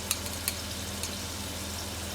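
Laksa paste frying in a pot: a steady, dense sizzle with a few faint clicks from stirring, moderately close, and no talking.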